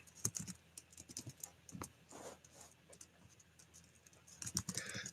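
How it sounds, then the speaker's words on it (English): Someone types on a computer keyboard, close and quiet, with irregular bursts of key clicks and taps and no talking. "I'm going to type..."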